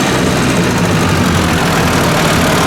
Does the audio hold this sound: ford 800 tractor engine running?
yes